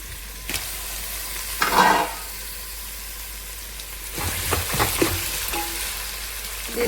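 Tomatoes hit a pan of frying ginger garlic paste and vegetable pieces, giving a soft steady sizzle with a few louder bursts of stirring and scraping, fairly quiet and with no voices.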